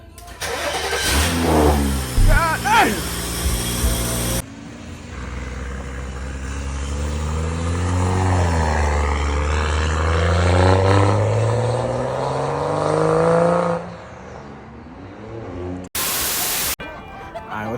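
A car fitted with a new downpipe starts and idles, then revs repeatedly with rising and falling engine pitch, loud and close for most of the run. A man exclaims briefly near the start, and a short burst of noise comes at the end.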